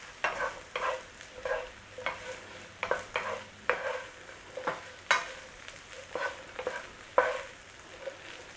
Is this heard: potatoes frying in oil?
yes